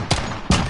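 Two loud, close pistol shots, about half a second apart, ring out from Call of Duty: Modern Warfare hardcore gameplay, each a sharp blast with a short tail and no talking.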